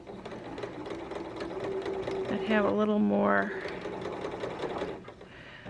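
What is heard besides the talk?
sewing machine running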